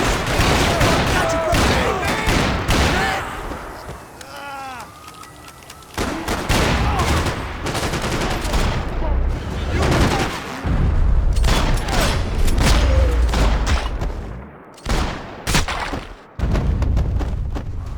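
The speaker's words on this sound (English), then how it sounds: "Gunfire over Hoboken." Heavy gunfire from Max Payne 3 over Hoboken, with dense bursts of shots and booming blasts that crackle almost without pause, loud and close, falling briefly quiet near the end before erupting again.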